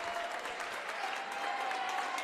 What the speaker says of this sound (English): Dunlap Valley's fans applaud their team's effort